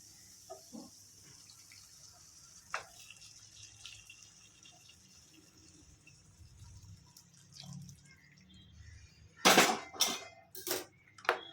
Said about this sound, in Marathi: आता आपण ह्याच्यामध्ये टाकणार आहे आपण गरम केलेलं हे पाणी